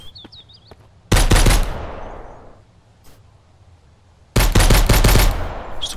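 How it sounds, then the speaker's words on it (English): Gunfire in the survival video game Mist Survival: two loud bursts of rapid automatic fire, each ringing out into a long fading echo, with a quieter single shot between them. "Stop shooting at me."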